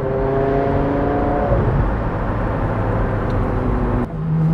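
A 2006 Porsche Carrera GT sports car drives past with a loud, steady engine drone that shifts pitch twice, as if changing gears, with no talking.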